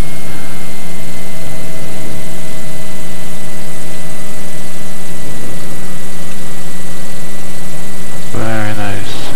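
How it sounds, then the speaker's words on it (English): A small propeller airplane taxis with a loud, steady engine drone and whirring hum throughout, the sound heavily saturated and close, ending with a brief burst of distorted noise. "You want to be comfortable with the airplane when you're taxiing."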